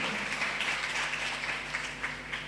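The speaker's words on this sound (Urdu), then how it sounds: "زوردار تالیاں خدا کے جلال کے لیے" A congregation applauding at a church service, a steady continuous wash of clapping from many hands with no clear break, moderately loud and even throughout.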